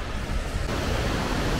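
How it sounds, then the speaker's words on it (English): A waterfall beside the E16 road in Norway roars as a dense, continuous broadband rush. It sounds loud and close, with no talking. "just come across this absolutely beautiful waterfall."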